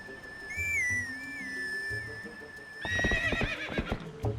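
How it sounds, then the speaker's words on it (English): Epona the horse neighs in The Legend of Zelda: Twilight Princess, a long whinny over game music, followed by close hoof clatter and rustling movement. "it gave us a little reed to summon Epona"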